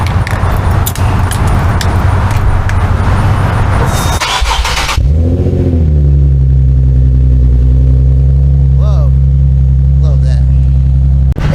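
A Nissan Z car engine cold-starts loud and close: a burst of cranking, then the engine catches and settles into a steady, deep idle with a few faint rising whirs on top.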